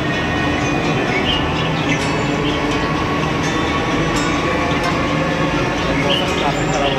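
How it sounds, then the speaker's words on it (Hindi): A Delhi metro train departing nearby, rumbling loudly with continuous heavy rolling noise, rail clatter and faint high squeals, occasional voices underneath. "मेट्रो अभी निकल रहा है।"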